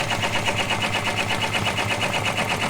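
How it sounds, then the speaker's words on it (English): An embroidery machine sews a tack-down stitch across fabric on a luggage tag, a steady, fast mechanical chatter with an even rhythm that runs unbroken throughout, close and alone. "right now it is stitching out the tack down stitch"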